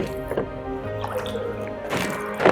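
Water drips and squelches as wet hands lift sourdough from its bowl, a run of small close wet plops and sticky squishes with a louder splashy handling at the end, no voices.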